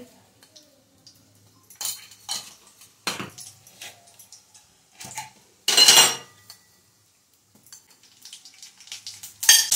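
Cumin, mustard seeds, dal and cashews frying in hot oil in a pan, heard as bursts of crackling and sizzling with occasional metal clinks from stirring, strongest around the middle, with no voices.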